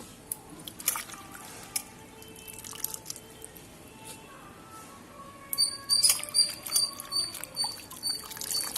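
Pulichai keerai greens are rinsed by hand in water, with faint swishing and sparse drips that turn into a livelier run of splashes and trickles near the end.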